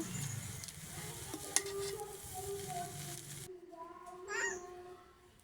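Chow mein with fried eggs and Maggi masala is stirred in a sizzling pan, a steady close crackle with soft scraping, faint voices in the background.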